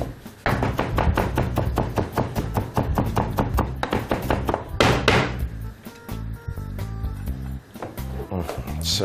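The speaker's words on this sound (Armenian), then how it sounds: "Սա էլ լավ տրորելուց հետո մանրացնում ենք մաղադանոսը" Knife chopping parsley on a board in a rapid run of even, close taps, then slower irregular cuts, with a voice speaking over the later part.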